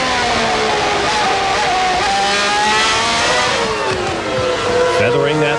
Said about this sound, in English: Let's just listen to the Ferrari for a second.